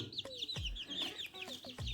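Chickens cluck and chirp close by in quick, overlapping bursts, a few hens murmuring together with short high peeps.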